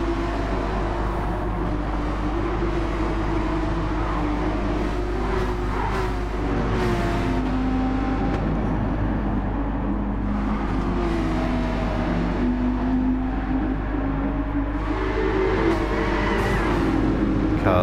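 Racing cars in Gran Turismo 7 at Trial Mountain drone continuously, engines rising and falling through gear changes, with a steady low hum of the pack under one car's note.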